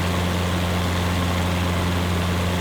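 The 210-horsepower engine of a Reims Rocket, a three-bladed Cessna 172, drones steadily and loudly with a strong low hum, and no voices are heard.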